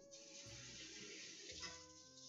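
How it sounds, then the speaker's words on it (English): Hands rinsed under a running kitchen tap, a steady faint hiss of flowing water with slight shifts in pitch as the hands move through the stream, soft and continuous throughout. "I'm gonna give my hands a quick little rinse"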